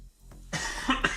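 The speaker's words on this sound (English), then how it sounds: "that cough came out of nowhere." A single harsh cough breaks a quiet moment, followed by a couple of short rough bursts.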